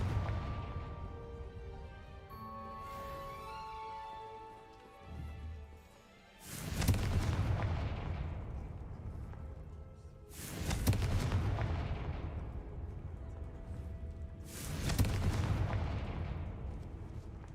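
Three Confringo fire blast spells from Hogwarts Legacy explode a few seconds apart, each a loud sudden boom that rolls off into a fading rumble, after a quieter stretch of ambient game sound.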